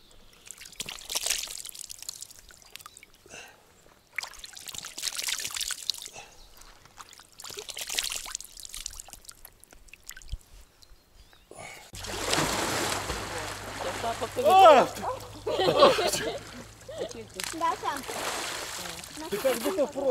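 Water splashes and pours in bursts as people wash their faces with cold water at a campsite, with people talking between and over the splashing up close.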